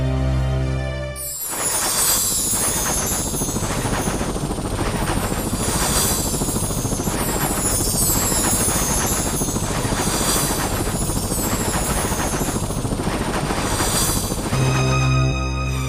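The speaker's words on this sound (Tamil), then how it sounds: "தேவலோகத்திலிருந்து புஷ்பக விமானம் வர" A loud, sustained whirring roar like a helicopter rotor, standing in for the celestial flying chariot Pushpaka vimana arriving, beginning abruptly and holding steady with rhythmic pulsing throughout before cutting off at the end.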